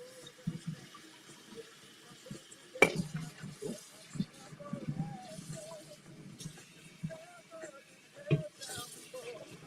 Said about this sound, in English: I'm going to rinse out this top.